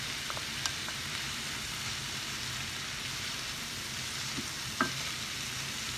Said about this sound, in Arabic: لما البصله هي بدات كتشحر شويه بشويه